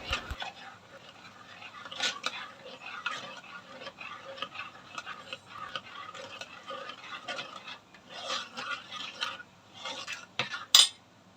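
Cooked dal is stirred and mashed in a pot with a spoon, making faint, quiet scraping and soft clinks throughout. A sharp click comes near the end.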